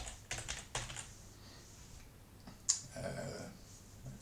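Computer keyboard keys tapped in short bursts while entering a folder name, with a few separated clicks and a louder keystroke near the end, quiet and close with no talking.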